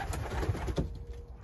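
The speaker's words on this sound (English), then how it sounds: "I think I got about 31 pigeons currently in a, well, in a 4x8 loft." Racing pigeons coo softly in a crowded 4x8 loft, a few low throaty calls over a steady background hum.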